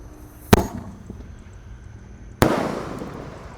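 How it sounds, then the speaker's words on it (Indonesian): A Raja Wali firecracker (mercon) gives two sharp, loud bangs about two seconds apart, the second trailing into a crackling hiss, with no talking. "Oke, mercon Raja Wali kita nyalakan."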